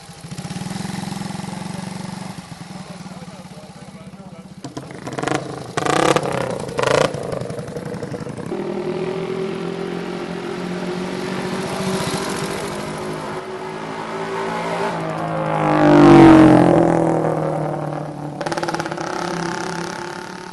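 A BSA 250 motorcycle engine runs at Brooklands, idling steadily with a few short sharp revs early on and a longer swelling rev later before settling back to idle.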